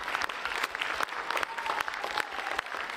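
An audience at the Breda 2023 comic festival gives two men a big round of applause after the Dutch comic-drawing championship, sustained clapping with scattered louder claps throughout.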